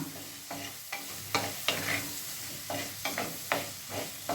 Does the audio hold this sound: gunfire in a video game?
no